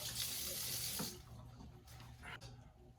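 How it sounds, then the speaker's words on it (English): Hands are washed under a running tap at an outdoor cooking setup while wild pork ribs are prepared for smoking. A steady, fairly loud gush of water fills the first second, then fades into low background noise with a brief later splash. "Let me get my hands clean again."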